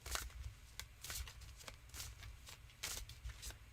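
Tarot cards are shuffled by hand in a quiet, close series of crisp riffling bursts that repeat at an uneven rhythm, with no talking.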